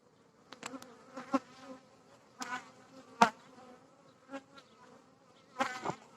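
Honeybees buzz in irregular bursts close by at an opened hive, with sharp clicks and rustles from hive frames being handled between the hums.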